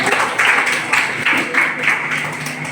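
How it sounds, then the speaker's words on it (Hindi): An audience claps at a children's poetry recital held at a school in Kanpur: a brisk, fairly loud round of many hands, swelling in uneven bursts for a few seconds without speech. "एक बार जोरदार तालियां हो जाए।"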